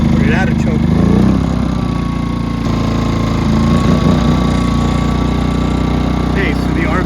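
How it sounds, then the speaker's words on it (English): A portable generator runs steadily just after being taken off choke, a loud continuous mid-pitched engine drone with a faint whine, with a person talking briefly over it at times. "Okay, so the RV is plugged into the generator now."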